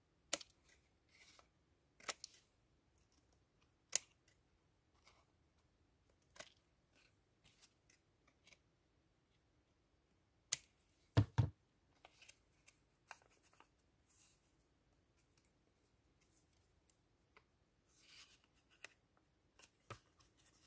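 Sparse, faint snips and rustles of scissors trimming the corners of cardboard for a junk journal pocket, isolated crisp cuts spread out with quiet gaps between them and no talking.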